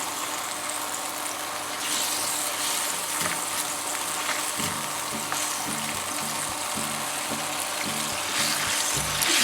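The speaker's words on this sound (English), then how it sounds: "And you just keep stirring that till it thickens." Sauce thickened with potato starch is stirred in a pan over steady sizzling, with a continuous close hiss and soft scraping strokes in a Chinese takeaway kitchen.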